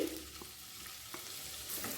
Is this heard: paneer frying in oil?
yes